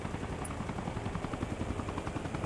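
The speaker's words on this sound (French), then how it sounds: "Hélicoptère, derrière nous." Rapid rotor thumping of a helicopter in the video game Arma Reforger pulses steadily at moderate level, alone, with no voices.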